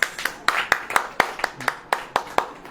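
Rhythmic clapping from a church audience in a steady beat, sharp and close, about four claps per second, with a brief murmur of voices in the middle.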